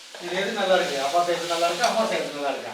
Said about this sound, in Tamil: சட்னிக்கு வெங்காயம் தக்காளி எல்லாமே நல்லா வதங்கிடுச்சு